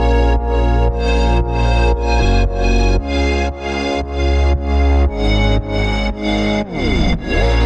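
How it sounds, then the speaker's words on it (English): Ambient synth pluck layered with bass and chords in an electronic track, repeating rhythmic pulses with a sustained full-range tone and a falling sweep near the end, loud and without voices. "which is this ambient pluck mixed with the bass and chords. It sounds like this."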